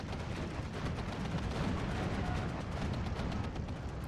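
A 6-pounder anti-tank gun fires during a WWII battle in the strategy game Steel Division 2. Dense, continuous rumbling gunfire and artillery booms fill the scene at steady loudness, with no voices.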